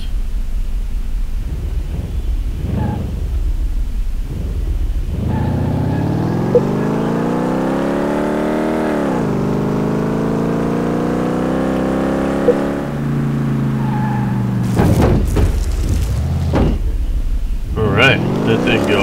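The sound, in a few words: car engine revving in acceleration test, Car Mechanic Simulator 2018 video game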